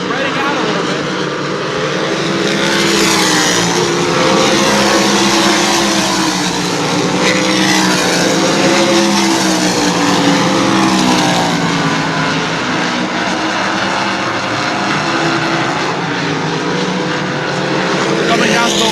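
Sprint cars racing at New Smyrna Speedway, a continuous loud roar of several engines with wavering pitch as the field spreads out and passes, steady throughout.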